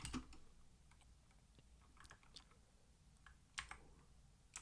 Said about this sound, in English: I'm going to type my answer in.